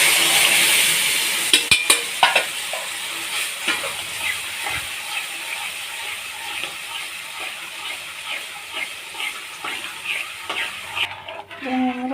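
Cumin, salt, turmeric, onion and dried chilli frying in a pan for Punjabi-style kadhi, a steady close sizzle with scattered stirring scrapes and clicks throughout, no talk.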